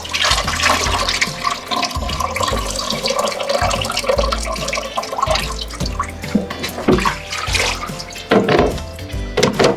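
Raw oysters are washed by hand in water for oyster frying, with continuous close splashing, sloshing and dripping, rising and falling as the shells are rubbed.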